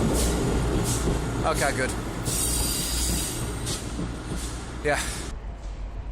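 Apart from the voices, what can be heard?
train passing by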